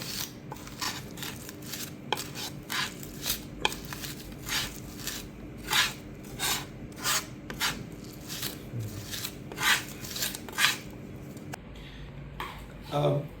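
Garlic is ground down with salt for Malaysian turmeric chicken, a steady series of gritty scraping and crushing strokes close by, repeating roughly every half second.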